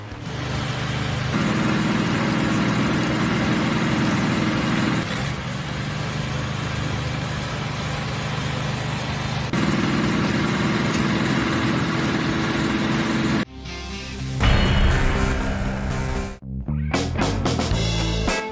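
A tree shaker hooked up to a tractor while harvesting an orchard: a loud, steady engine drone that runs throughout, with a sudden jolting burst and shift in the machine's noise near the end.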